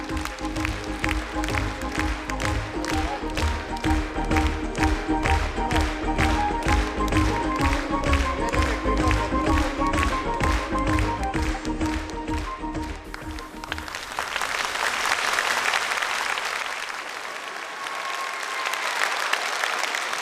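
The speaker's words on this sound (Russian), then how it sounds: "Аплодисменты продолжаются." Concert audience applause, starting as rhythmic unison clapping in a steady beat with music-like tones beneath, then breaking into loud, dense free applause from a large crowd.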